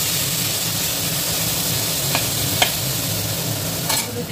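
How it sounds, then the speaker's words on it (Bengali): Prawns stirred while frying in a pan for a prawn biryani, a steady loud sizzle with a few sharp clinks and scrapes of the utensil against the pan. "মাছগুলো ধীরে ধীরে অল্প একটু নেড়ে চেড়ে"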